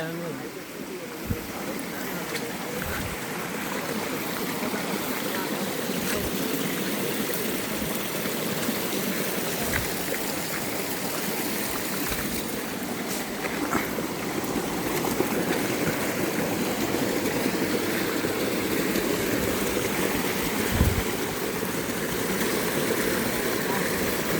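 Steady rushing water of a stream at the top of Mae Kradang La waterfall, Thailand, flowing continuously, moderately loud and close, with faint occasional knocks and voices beneath.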